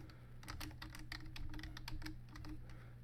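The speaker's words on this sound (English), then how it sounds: "I'm going to type it in there real slow." Fingers typing slowly on a computer keyboard while entering accounting figures: quiet, uneven clusters of sharp key clicks over a low steady hum, close but faint, with no speech.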